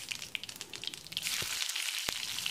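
Garlic cloves frying in about two tablespoons of oil with mustard seeds and cumin in a kadai, a steady close sizzle with faint crackles and no talk.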